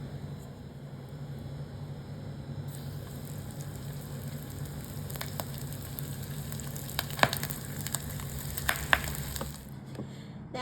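Steady, hissing sizzle of wakame seaweed frying in hot oil in a small pan, with occasional sharp pops and crackles growing more frequent toward the end.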